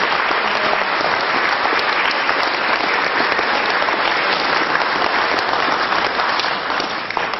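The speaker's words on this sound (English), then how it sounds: "A big warm round of applause." A health and wellbeing forum audience gives a big, warm round of applause, loud dense clapping that holds steady for several seconds before easing slightly at the end.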